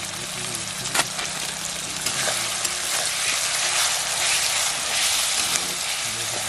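Onions fry in oil for tempering a chicken sukka at a night party, a loud, continuous sizzle with stirring scrapes and occasional pops.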